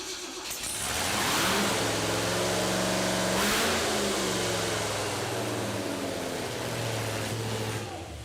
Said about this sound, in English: I just want to hear these pipes